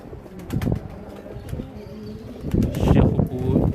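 Pet pigeons, Teddy and Rampuri breeds kept in Karachi, coo and beat their wings in short bursts up close, the flapping swelling louder near the end.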